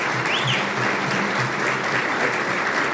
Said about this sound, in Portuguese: Pessoal, então uma salva de palmas aí para o Lucas.